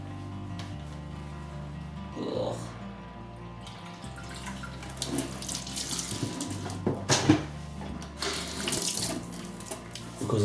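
Water runs steadily from a kitchen tap while mixing-desk parts are rinsed under it, a continuous splashing rush with occasional louder surges and clatters as the parts shift under the stream.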